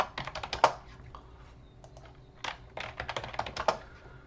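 Computer keyboard typing in irregular bursts of quick, close keystrokes with short pauses while working in R code chunks, with no talk.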